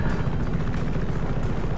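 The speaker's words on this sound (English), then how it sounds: "Well, let's steal the helicopter" A helicopter in the video game Just Cause 3 drones with a steady, loud rotor thrum and engine roar, continuous and close throughout.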